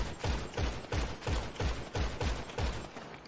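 Steady, evenly spaced gunshots in GTA 5 Online, about eight rapid reports in a row at a regular rhythm, moderately loud with no talking over them.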